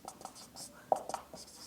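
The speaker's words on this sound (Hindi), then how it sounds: "मैं यहां पर लिख दे रहा हूं" A marker or chalk scratches across a board during a math lesson on the basic proportionality theorem, with short strokes in quick bursts and a quiet voice faintly present.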